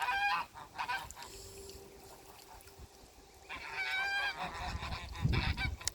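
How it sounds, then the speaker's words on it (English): A farm goose honks in loud nasal bursts, first briefly and then in a longer run of calls, near the goslings bathing by the water, with quiet ambient noise in the gaps. "Papa Goose has done his shower, and he's showing off for everyone."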